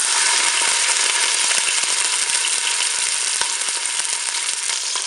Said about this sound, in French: Le préchauffage est terminé, je vais commencer à faire dorer mon rôti.